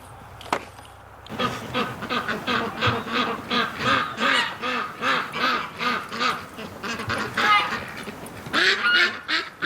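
Ducks call repeatedly from their pen in winter snow and wind, a dense run of rhythmic quacks and honks, close and fairly loud, with gusts of wind underneath.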